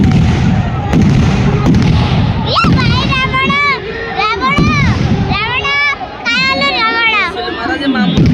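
Firecrackers crack and pop sharply a few times during a Ravana-burning celebration for Vijaya Dashami at Langaleswar, mixed with loud, excited voices and children shouting nearby.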